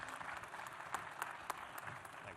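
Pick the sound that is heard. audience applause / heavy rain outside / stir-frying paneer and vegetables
audience applause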